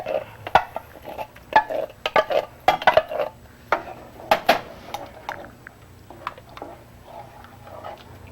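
Creamed corn goes into a pan heating on a stovetop, with scattered close clinks and taps of a utensil against the pan and soft scraping and stirring in a quiet kitchen.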